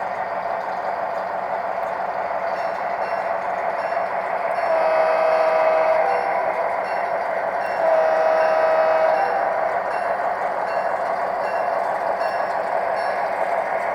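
A model railroad locomotive's sound system runs at full throttle, a steady droning engine effect with two sustained horn-like tones sounding a few seconds apart, and no speech.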